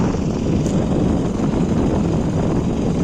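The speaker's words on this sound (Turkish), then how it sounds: "Rüzgar yine çıktı." Steady wind roaring into the microphone in a field, a constant low rumbling buffet that holds at the same loud level throughout with no voices.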